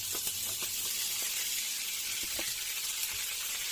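Butter sizzles in a steel frying pan with a steady bright hiss. Faint pops and a few soft clicks sound through it now and then.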